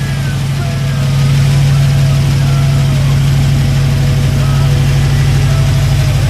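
A 1941 Buick engine idles a little high, producing a loud, steady, close-up low rumble that continues without a break.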